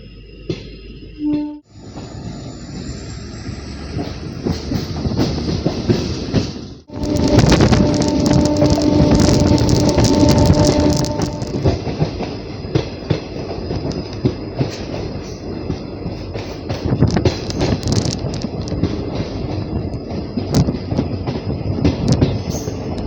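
A Belagavi–Miraj passenger train runs on the tracks with a loud, steady rumble and clatter of wheels, a high whine early on and a brief drop before the roar swells and carries on without voices.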